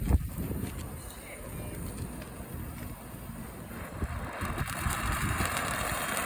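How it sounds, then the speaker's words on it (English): Outdoor wind buffets the microphone in a steady, rumbling low roar with gusts that build toward the end, while people talk intermittently nearby. "Daddy, it's windy out here."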